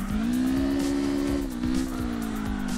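A stock Corolla drifting in the CarX Drift Racing video game, with a steady loud engine drone held at high revs, dipping briefly and rising again, and tires squealing underneath.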